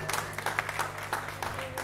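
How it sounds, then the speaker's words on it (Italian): Audience applause at an outdoor summer evening folk music concert in Italy, a soft, brief spatter of many hands heard from a distance, faint, with a low steady hum beneath. "Un applauso forte però voglio sentire"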